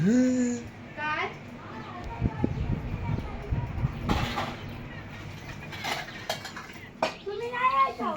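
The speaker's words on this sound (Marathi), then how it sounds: "गौरीची चालली भांडी घासायची काम" Dishes and pots being scrubbed and washed, with irregular clinks and clatters of metal utensils, close by, under frequent talking from adults and children.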